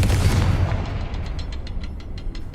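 A Confringo fire spell bursts in Hogwarts Legacy, a loud close boom that decays into a crackling, rumbling tail with faint rapid ticks.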